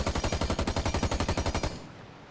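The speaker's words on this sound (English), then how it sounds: "Finka's gun. Fire rate." Finka's automatic gun in Rainbow Six Siege fires a rapid, evenly spaced burst of about twenty shots, loud and close, then stops abruptly and leaves a short fading tail.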